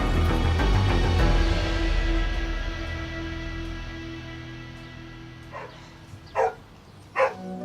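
Angry dog barking behind the door of a house during an eviction, two sharp barks heard toward the end after a fading rumbling background.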